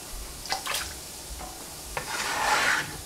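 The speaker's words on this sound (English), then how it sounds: "We rinse in a bowl." Cut potato and celery pieces being rinsed and rubbed by hand in a bowl of water, close-up scraping, sloshing and gentle splashes in a few short bursts.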